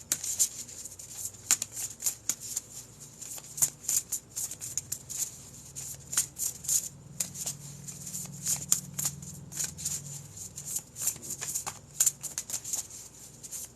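Tarot cards being shuffled by hand, a steady run of crisp riffling snaps and soft papery slaps close to the microphone, continuing for the full stretch with a faint low hum underneath.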